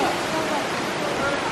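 Broad, steady rush of falling water at Thác Hiêu during the low-water season, a constant close hiss filling the whole clip with no breaks or talk.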